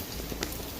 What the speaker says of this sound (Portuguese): Muita chuva aqui em Recife e Pernambuco.